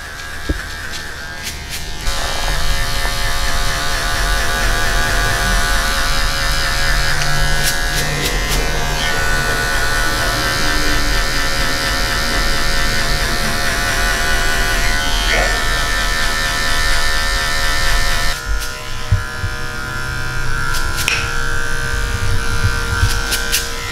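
A cordless Andis LI hair clipper buzzes steadily and up close while cutting a taper fade, its motor whine running almost unbroken with small pitch shifts as it moves through the hair.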